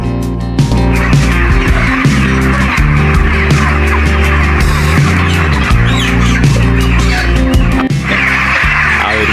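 A dense flock of desi chickens on a poultry farm, fowl calls overlapping into a loud, continuous clucking chatter with no talk.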